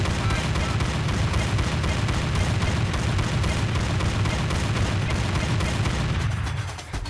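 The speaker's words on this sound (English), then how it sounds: "automatic shotgun." An automatic shotgun fires in a hunting video game, Cabela's Dangerous Hunts 2011, as a dense, sustained barrage of booming blasts that runs loud and continuous before cutting off near the end.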